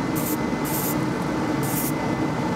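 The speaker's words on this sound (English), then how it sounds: "Got some spray paint here. plugging in the fan. I'm gonna spray it there and see where it goes." A spray paint can hisses in three bursts into a homemade paint booth, heard over the steady roar of the booth's exhaust fan running throughout.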